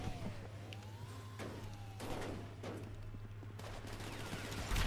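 Gunfire in GTA cracks out in several sharp bursts during a game race, with a siren-like wail and steady engine hum running underneath at moderate distance.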